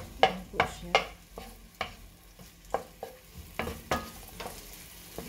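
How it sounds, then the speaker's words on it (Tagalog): Onion sizzling in olive oil in a pan for pansit, with a spoon knocking and stirring in repeated sharp strokes over a low frying hiss. "Ilagay na po natin ang onion."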